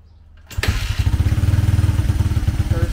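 A 2004 Honda CRF 80 dirt bike with a big bore kit is kick started after a quiet moment, catching at once into a loud, rapid, pulsing engine run close by.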